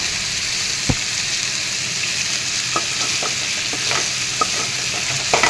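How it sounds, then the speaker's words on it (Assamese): Taro stems are stir-fried in a hot pan, giving a steady sizzle broken by scattered scrapes and taps of a spoon against the pan. "এনেদৰে তলপৰ কৰি এফালৰ পৰা লৰাই দিম"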